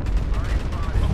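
Mech weapon fire in Mechwarrior Online, a dense continuous low rumble of rapid shots over the full second, steady and loud with no distinct gaps.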